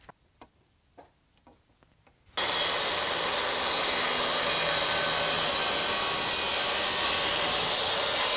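A few light wooden taps come first, then a saw cuts an elm crotch slab to length with a loud, steady, broadband roar that lasts to the end.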